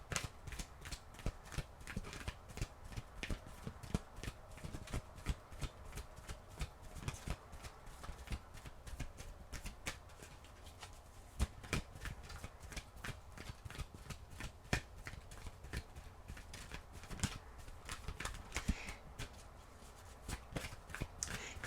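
Oracle cards shuffled by hand in a quiet room, a long run of rapid crisp riffling clicks in irregular bursts, close and soft, with no talk.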